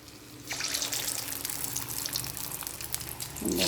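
Breadfruit kebabs drop into hot oil for deep frying, setting off a sudden loud, rushing, bubbling hiss that continues steadily and close, with no talk over it.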